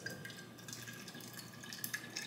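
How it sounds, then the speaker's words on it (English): Cold canned soda being poured into a cup, a soft steady trickle with faint fizzing and small splashes, quiet and without talking. "You're gonna watch me pour it"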